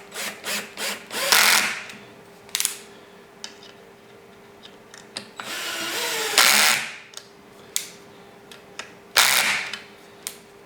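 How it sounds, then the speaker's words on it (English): Side screws are power-driven into a Shuttle Buddy Pro ice shuttle for a Humminbird Helix, giving several short bursts of a cordless driver whirring close by, spaced between quieter handling clicks and ticks. "we're going to take and put the side screws in first"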